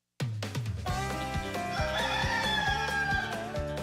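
A rooster crows within a radio station jingle, its long rising call standing out clearly over layered musical tones and a steady rhythmic beat, loud and continuous throughout.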